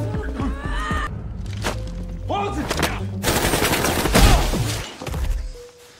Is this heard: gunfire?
yes